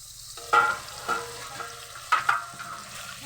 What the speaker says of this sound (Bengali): আলুটা দেওয়ার পর আমি ভালোভাবে এটাকে কষিয়ে নিচ্ছি।